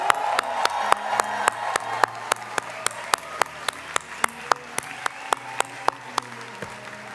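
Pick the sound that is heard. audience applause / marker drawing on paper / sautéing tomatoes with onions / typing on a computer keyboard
audience applause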